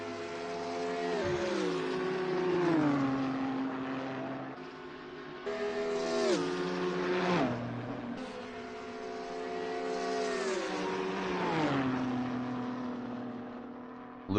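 Race cars circle Monza, a BMW Z4 among them, probably in a racing video game; engines rise and fall in pitch through repeated upshifts and downshifts, a loud, continuous whine with swooping gear changes and no voices.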